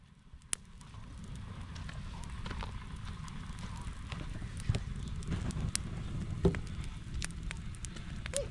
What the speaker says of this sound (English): We have created fire.